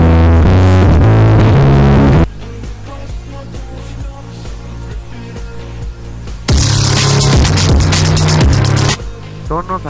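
Synthesized sound-effect tones created in Mixcraft music software, loud layered electronic chords and buzzing pulses that shift abruptly between sections, with stacked harmonic tones and a brief quieter stretch in the middle.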